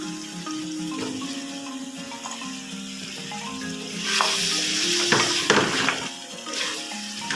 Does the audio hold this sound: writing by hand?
no